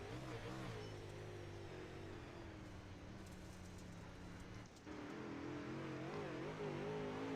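Modified race car engine on an HRA Modified Tour race, held under steady throttle with a droning, slightly varying pitch, faint and distant, briefly dipping before picking back up.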